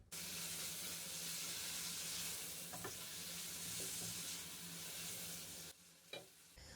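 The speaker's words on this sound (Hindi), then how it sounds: "चिकन को हम प्याज के अंदर अच्छे से फ्राई कर लेंगे।" Chicken legs with deep cuts frying in a pan with onions for Hyderabadi chicken biryani, a continuous close hiss with light stirring scrapes, then the sizzle drops sharply near the end, leaving a few soft clanks.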